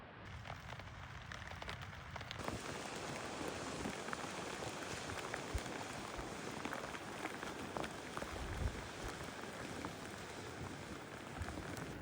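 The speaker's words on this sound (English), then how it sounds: "we experience expected light rain." Light rain falls steadily on a sandy inland track on Flinders Island, Tasmania, a constant soft patter of drops that fills the whole scene without pause or voices.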